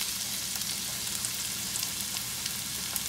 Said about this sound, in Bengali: পেঁয়াজটা আরও ভাজা ভাজা হবে